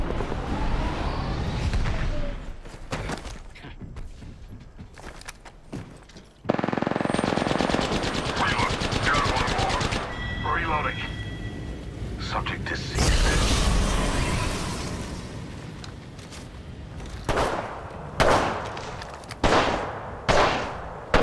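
Rapid automatic gunfire from a battle-royale shooter video game, loud bursts and sustained rattling volleys with mechanical clanks and reload clicks, intermittent quieter gaps and short sharp shots near the end.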